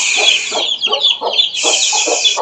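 Hens clucking up close on a rooftop where goats, chickens and kids are kept, a run of short choppy clucks and squawks repeating in quick bursts with no talking.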